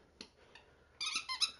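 A dog named Clover squeaks in a run of high, tonal squeaks close by, a faint early chirp followed by a louder, sustained burst of squeaking.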